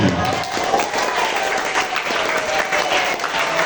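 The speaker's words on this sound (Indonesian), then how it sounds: "Tepuk tangan." Audience applause at a school election campaign event, a dense, steady clatter of many hands clapping throughout, close and loud with crowd noise mixed in.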